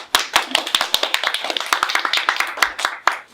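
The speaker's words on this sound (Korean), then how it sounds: "박수 한번 주세요." A lecture audience at a cartoonists' talk applauds: distinct, crisp hand claps from a modest group in a quick, uneven patter, close and clear, lasting a few seconds.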